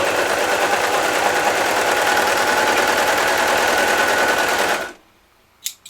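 A Baby Lock Desire 3 overlock machine runs at speed while gathering fabric, a loud, fast, even mechanical rattle lasting about five seconds, then stopping abruptly, followed by a couple of faint clicks.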